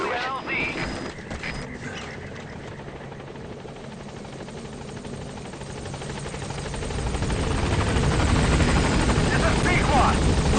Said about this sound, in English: Call the chopper from your iDroid box. Then carry the target to it.